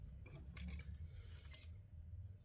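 Fine craft wire for a wire-wrapped sun catcher snowflake is snipped with small cutters, giving a couple of faint, brief metallic clicks close by over a low, steady background hum.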